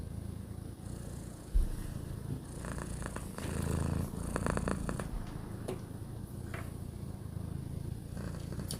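A cat purrs steadily and close by, a low continuous rumble with a brief bump partway through and no talking over it.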